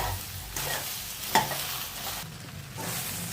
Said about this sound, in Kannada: ಬೆಂಡೆಕಾಯಿ ಫ್ರೈ ಆಗಿದೆ ನೋಡಿ